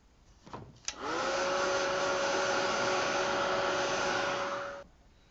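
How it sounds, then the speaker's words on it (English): A heat tool switches on and blows steadily for about four seconds to dry a damp stamped scrapbook background, a loud, close, even whirring hiss with a faint whine, ending abruptly. "I'm going to heat set this because it's a little bit still damp."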